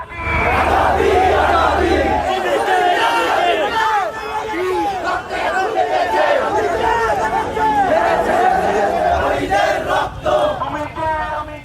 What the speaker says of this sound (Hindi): ये लाठी डंडे हथौड़े लेकर किसका सर फोड़ने निकली है ये भीड़?